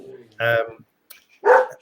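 A dog barks twice in a room, two short separate barks spaced about a second apart, fairly close and clear against quiet background.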